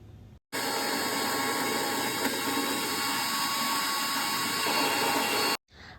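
A mixer grinder blends sour yogurt and raisins into a paste, its loud, steady high-pitched motor whine starting abruptly and running about five seconds before cutting off sharply, with brief quiet before and after.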